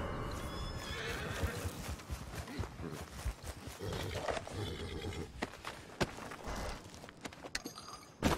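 A horse in the video game Red Dead Redemption 2 whinnies loudly and close, its hooves clopping in an irregular rhythm, with a brief low roar and a faint voice underneath.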